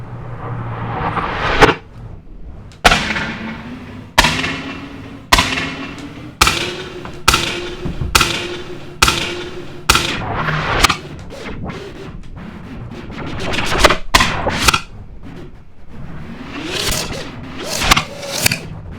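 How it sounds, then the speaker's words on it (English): A gunshot sample played back over and over with shifting granular variations, about a dozen sharp cracks and thumps, each followed by a short decaying tail, some evenly spaced and others in quick clustered bursts, loud and with no talking. "let's pick that gun sound file I was using the other day."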